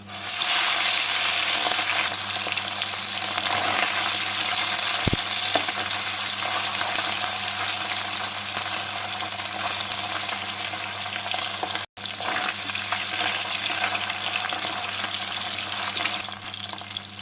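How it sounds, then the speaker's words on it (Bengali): Tangra fish frying in hot mustard oil: a loud, dense, steady sizzle runs from start to finish, close up, with only a momentary dropout partway through. "তেলটা গরম হয়ে গেছে এবারে এর মধ্যে মাছগুলোকে দিয়ে ভেজে তুলে নেব"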